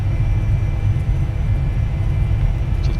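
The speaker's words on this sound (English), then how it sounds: "Not the fastest accelerating airplane in the world, this Citation." Citation jet in the X-Plane 11 flight simulator speeding up on its takeoff roll, a constant heavy low-pitched jet roar that holds steady and close throughout.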